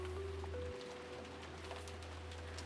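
Rain falls as a soft, even patter within the Umineko visual novel game, faint and continuous under a low steady hum and a sustained tone.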